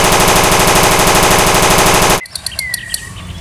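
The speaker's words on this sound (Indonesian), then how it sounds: "Ini senjata AK-101." A toy AK-101 rifle firing its sound effect, a loud rapid buzzing burst of electronic gunfire that cuts off abruptly, followed by faint clicks and chirpy tones.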